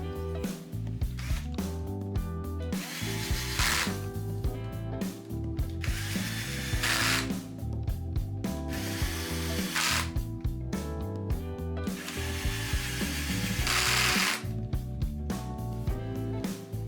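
Ratchet driving screws into a Harley Evo cam chest cover, rapid clicking strokes repeated in bursts with short pauses, close and clear throughout.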